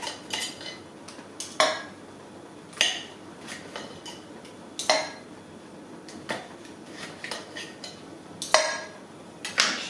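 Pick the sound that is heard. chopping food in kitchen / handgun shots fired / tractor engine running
chopping food in kitchen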